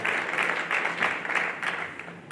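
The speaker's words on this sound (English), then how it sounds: "Could I have another big round of applause for Mrs. Luan, Addison, Isabella, Amara, Osc" An audience at a Connecticut Teacher of the Year and Paraeducator of the Year ceremony applauds, steady clapping in a large room that swells in gentle waves.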